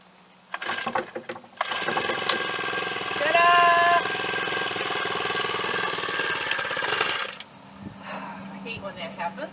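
New Makita string trimmer engine on its first start: a few sputtering pulls, then the small two-stroke engine catches and runs with a fast, buzzing rattle for several seconds before dropping back, with voices talking around it.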